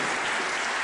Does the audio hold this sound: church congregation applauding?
yes